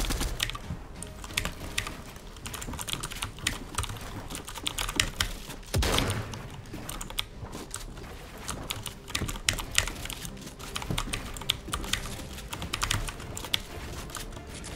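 A typewriter-style computer keyboard clatters nonstop during an arena game, dense rapid key clacks in uneven bursts, close and crisp, with no talking.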